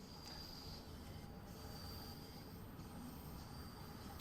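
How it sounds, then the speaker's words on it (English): A London Underground train rumbles faintly in the distance with a steady low roar and a thin high wheel squeal, heard alone at low level. "can hear another underground train somewhere"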